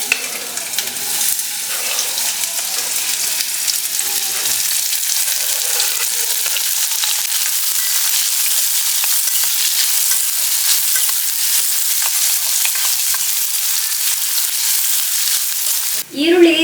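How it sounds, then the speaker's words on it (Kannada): Chopped onion and green chillies fry in hot oil, a loud, dense, continuous sizzle that holds steady before a brief stirring clatter at the end. "ಸೊ ಎಣ್ಣೆ ಕಾದ್ಮೇಲೆ ಒಂದು ಈರುಳ್ಳಿ ಹಾಗೆ 1-2 ಹಸಿಮೆಣಸಿನ್ಕಾಯಿನ ಈ ರೀತಿ ಸಣ್ಣದಾಗಿ ಕಟ್ ಮಾಡ್ಕೊಂಡಿದ್ದೀನಿ. ಇದನ್ನು ಹಾಕ್ತಾ ಇದ್ದೀನಿ."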